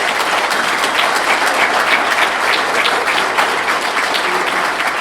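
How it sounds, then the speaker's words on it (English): Dense, steady audience applause fills the room at close range, a continuous wash of many hands clapping at an even loudness throughout, with no voices standing out. "Please give them a round of applause."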